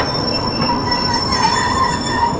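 The Shri Shakti AC Express passenger train runs steadily on the rails in dense fog with a loud, sustained metallic wheel squeal ringing over a constant rolling rumble.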